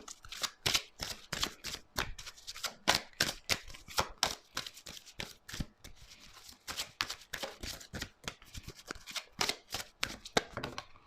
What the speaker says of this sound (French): Pourriez-vous faire sauter les cartes, s'il vous plaît?